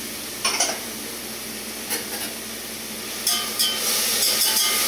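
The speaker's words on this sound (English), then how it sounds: "I'm going to saute all this together on a medium to medium-high heat." Finely chopped mushrooms sauté over medium to medium-high heat, giving a steady hissing sizzle broken by a few clinks and scrapes of a utensil on the pan.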